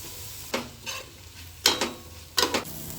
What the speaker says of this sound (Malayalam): ഒരു ബ്രൗൺ കളർ ആവുന്നത് വരെ ലോ ഫ്ലെയിമിലിട്ട് വഴറ്റുക.